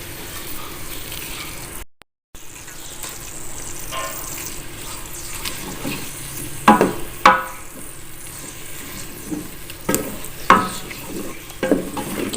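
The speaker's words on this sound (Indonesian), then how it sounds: "Kita aduk lagi ya guys. Kita aduk-aduk." Chicken feet and necks frying in a pan, a steady sizzle under repeated scraping stir strokes that come in short bursts, close and clear with no voices.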